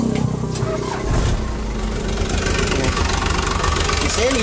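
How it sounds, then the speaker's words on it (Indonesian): Hino Dutro / Toyota Dyna truck engine running just after starting, a loud, close, steady rough idle with a knocking throb, continuous throughout. "Mesin hidup omku ya."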